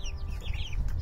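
Chickens cluck and chirp softly around a homemade bucket feeder, several short calls close by over a low steady outdoor rumble.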